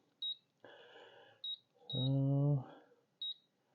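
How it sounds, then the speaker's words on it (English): A Deluxe Cooking Blender signals it is ready with several short, high electronic beeps spaced apart, close and clear, alongside brief speech and a quiet background hum. "You hear it beep when it's ready to go."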